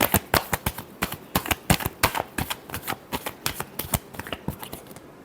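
Tarot cards being shuffled by hand, a close, crisp run of rapid riffling flicks and slaps in an uneven rhythm, with no talking.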